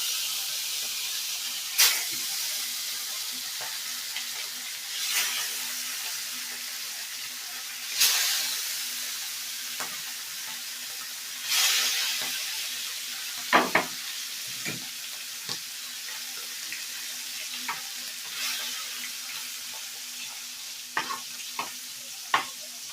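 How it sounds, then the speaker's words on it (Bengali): Spice-coated tilapia fish frying in hot oil gives a steady, moderate sizzle and hiss, broken every few seconds by louder bursts of spattering and scattered clinks of a utensil near the end; no one talks. "এবার মাছগুলোকে ভেজে নেব।"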